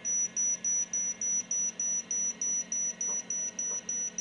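A logic probe on a Commodore 64 data pin beeps rapidly and steadily at a high pitch, about three short pulses per second, repeating evenly throughout over a faint low hum.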